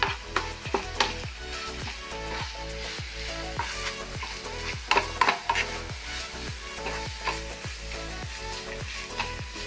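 Fried bitter gourd thoran is stirred in a hot pan, a steady sizzle punctuated by rhythmic spatula scrapes and clanks against the metal, close and clear.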